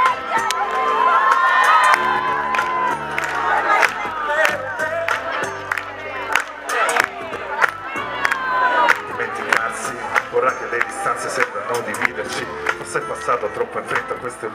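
A big live concert crowd at an Italian show cheers and whoops loudly and continuously, dense shouting and applause filling the space without a break.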